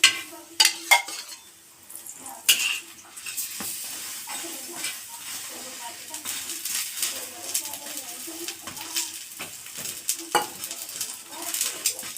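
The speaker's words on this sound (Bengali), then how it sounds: "এরকম করে সব পরোটাগুলোকে ভেজে গোল গোল গোল গোল" Radish-stuffed parathas fry in oil on a pan with a steady sizzle, broken by sharp clinks and scrapes of a utensil against the pan as they are turned.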